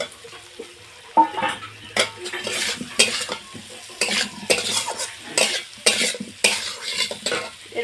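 Fried pointed gourd and potato pieces are stirred in a pan with green chillies, with rhythmic spatula scrapes and clinks recurring about once a second over a soft sizzle, close and clear.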